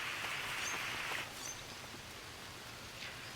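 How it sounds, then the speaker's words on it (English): Rain falling inside a cave in a VR survival game, rendered as a steady hiss like radio static rather than drops on rock, louder for the first second then continuing evenly at a lower level. "when you go into a cave or something where it's raining, it sounds like radio static instead of rain on rock."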